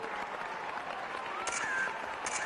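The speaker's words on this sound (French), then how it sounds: "On les applaudit bien fort." Audience applauding a band after a live performance, a steady wash of clapping at moderate distance with a faint tone over it.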